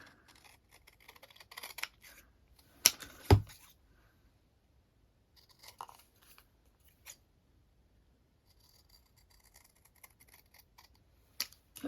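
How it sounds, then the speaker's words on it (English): Scattered snips and crisp clicks of scissors cutting paper, close by, in irregular bursts separated by quiet pauses. "I am simply using a big pair of scissors to chop them up"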